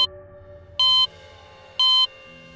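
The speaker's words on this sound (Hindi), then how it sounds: "जैसे बीप साउंड होता है ना, जैसे जैसे मशीन चल रही हो हार्ट बीट वाली" An electronic heart-monitor sound effect gives three clean, evenly spaced high beeps about a second apart, loud and close over a faint low hum.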